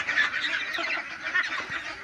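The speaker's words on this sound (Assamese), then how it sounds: "হাঁহবোৰ মোৰ গোটেই বাৰীত ৰাউণ্ড মাৰি থাকে" Ducks call in a close, continuous chorus of nasal honking quacks, loud and overlapping throughout.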